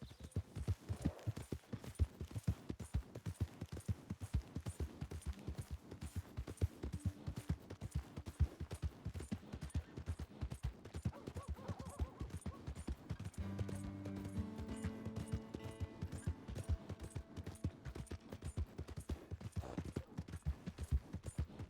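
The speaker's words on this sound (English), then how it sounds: "My horse!" Horse hooves clip-clop in Red Dead Redemption 2, a long, steady rhythm of strikes at walking pace, with faint voices and a brief low hum partway through.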